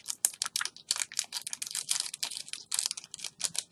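A plastic blister pack holding a small Blizzard Cute But Deadly Arthas figure's toy sword crackles and crinkles as the sword is pulled free, with dense rapid clicks and rustles that stay fairly quiet and close.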